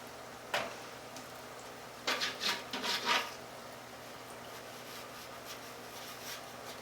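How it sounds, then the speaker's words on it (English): Plastic-bladed scraper rubbing along the inside top of a wet fish tank's glass, a quick single scrape followed by a cluster of short rasping strokes, close and fairly quiet, with no talking. "all I'm going to do with this is clean the top of this tank on the inside"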